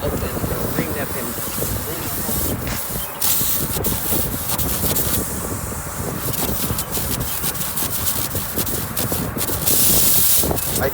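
A reaming tool is worked into a tire's puncture hole to prepare it for a plug, making a continuous, close, coarse rasping and scraping that runs through the whole stretch.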